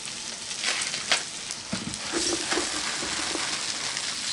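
Carrots and celery cooking in a pot with other vegetables, giving a steady soft sizzle and bubbling, with faint stirring clinks and small splashes as pieces drop in.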